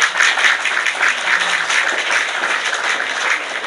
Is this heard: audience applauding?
yes